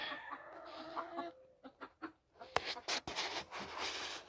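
Game chickens in a spring farm chicken yard give soft, intermittent clucks and short calls. The sounds are faint and scattered over a quiet background.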